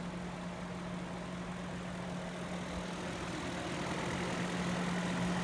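A Ford Crown Victoria engine idles in a steady, even drone with a low hum, running alone and unchanging for several seconds.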